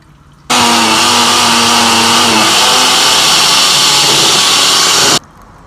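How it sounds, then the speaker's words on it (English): Blender running at full power with pineapple and almond milk, a loud steady roar that starts abruptly, holds for nearly five seconds with a slight drop in pitch partway, then stops sharply; no speech. "I'm gonna blend that up now."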